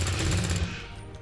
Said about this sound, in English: Finish him off with your little SMG.